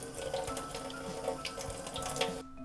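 Makeup brushes are rinsed under a running tap, a close, steady splashing stream with soft shifting gurgles that cuts off abruptly at the end.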